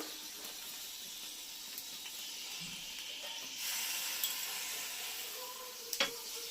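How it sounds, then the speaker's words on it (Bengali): Oil sizzling in a kadai with spices for a Bengali chicken curry, a steady hiss throughout, louder from midway, with a brief sharper crackle near the end and no talking. "কড়াইয়ের মধ্যে আমি তেল দিলাম"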